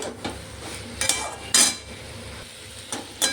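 Spices and sugar being stirred and sautéed in a pan for a Bengali chochchori, with brief, bright scraping strokes of a spoon at irregular intervals over a soft, steady sizzle.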